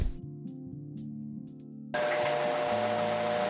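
A dryer blows to dry underwear, starting with a quieter whirring hum that jumps abruptly to a loud, steady, close rush of air.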